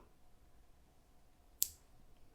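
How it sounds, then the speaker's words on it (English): A single sharp snip of scissors trimming excess thread or material while tying a salmonfly pattern with feather wings, one brief close click in an otherwise quiet room. "Let's go ahead and cut off the extra"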